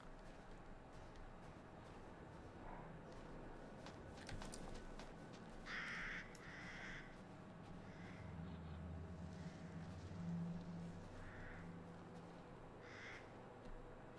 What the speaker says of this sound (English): I like crows. Crows are my favorite bird.